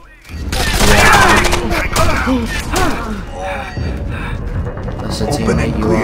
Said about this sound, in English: It sounded like you were shooting at him.